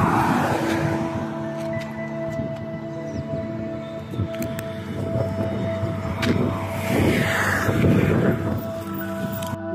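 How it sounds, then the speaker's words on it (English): A taxi car approaches along a village road, its engine hum and tyre noise rising steadily and filling the scene, with a broad rumble and faint hiss that grows louder as it nears. "Here's the taxi"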